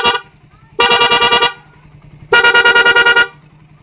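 A Raider 150 motorcycle's fullwave dual horn with a passing function fires two loud bursts of rapid, pulsing honks, each lasting under a second, close by with short quiet gaps between.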